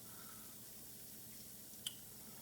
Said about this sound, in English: If it's bubbling like that, that means you got a good work